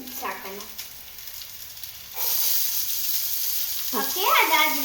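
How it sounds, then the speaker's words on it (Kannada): Onions, carrots and beans fry in a pan while being stirred. A soft sizzle swells into a loud, steady hiss partway through, with brief voice-like sounds at the start and end. "ಸ್ಟಿರ್ ಮಾಡಿ ಸ್ವಲ್ಪ ಫ್ರೈ ಮಾಡೋಣ"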